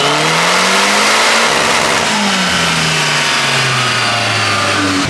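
A turbocharged rear-wheel-drive Honda Civic on a dyno roars loudly and continuously, its engine pitch sweeping up and bouncing repeatedly off the rev limiter.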